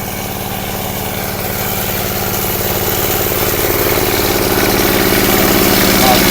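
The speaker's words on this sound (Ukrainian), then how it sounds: "працює мотоблок" Walk-behind tractor engine driving a Mar-Pol Su-50 water pump in a vegetable garden, a loud, close, steady chugging idle that swells slightly louder as it runs.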